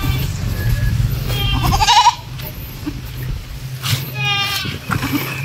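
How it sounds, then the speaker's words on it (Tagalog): Two goats bleat nearby, one wavering cry early and another a couple of seconds later, over a low background rumble. "Ito ang 2 kambing"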